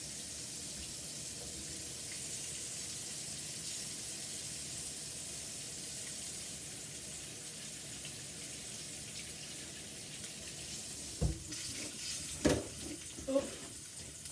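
A running kitchen tap hisses steadily as hands are washed beneath it, a constant soft rush of water, ending with a few sharper splashes and knocks against the sink.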